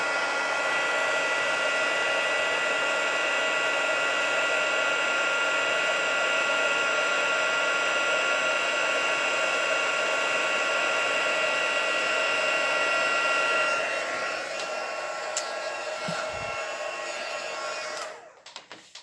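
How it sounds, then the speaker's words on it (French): A heat gun runs as a steady, loud, continuous blowing roar, melting embossing powder over Versamark ink for a white-lettered stamp design, then cuts off near the end with a few soft handling clicks. "je vais prendre mon pistolet chauffant"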